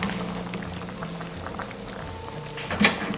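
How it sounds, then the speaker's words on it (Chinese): Pork belly with ginger, scallion and cooking wine boils in a pot with a soft, continuous bubbling. A brief clatter rises near the end. "五花肉冷水入锅，加入生姜、大葱、适量料酒，大火煮开"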